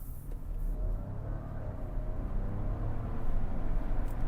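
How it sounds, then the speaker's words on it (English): Audi Q7 55 TFSI e plug-in hybrid with a V6 petrol engine, heard from inside the cabin as a steady, moderately loud low engine rumble builds slightly while the SUV accelerates, with no talking. "this V6 petrol engine gives you so much fun"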